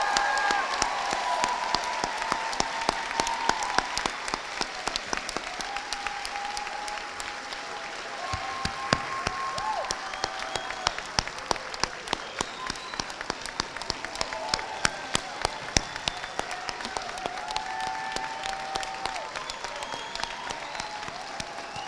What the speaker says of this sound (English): let's give a huge round of applause to these future healthcare workers